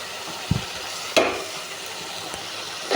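Yardlong bean bhaji added to a pan after the masala has been fried down, a soft steady sizzle with a couple of sharp clattering knocks as the beans go in, close and moderately loud.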